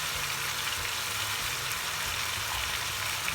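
Onion paste for Goan chicken xacuti sizzling in a hot pan, a steady, even frying hiss with faint low bubbling, close and uninterrupted with no talk.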